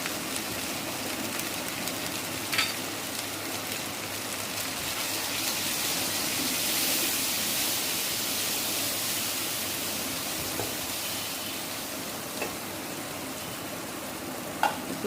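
Spices with turmeric, chili, coriander, cumin, cardamom and cinnamon powder sizzle in a pan with beef and dried fish while being stirred, a constant dense hiss broken by occasional scraping knocks, close and without talk.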